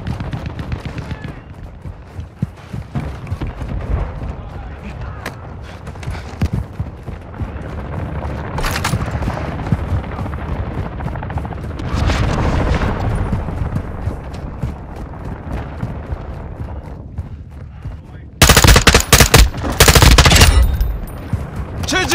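A battlefield in the Call of Duty game Invasion on Taraq, with steady rattling gunfire and scattered shots throughout, then a loud, harsh mortar strike erupting near the end before the firing carries on.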